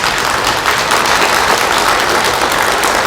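Applause from a seated audience at a political gathering, a dense, loud, continuous burst of many hands clapping that fills the whole few seconds with no voices over it.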